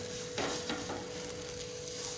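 Dough paratha frying on a hot tawa, a soft, steady sizzle running throughout with faint stirring or scraping touches and no voices.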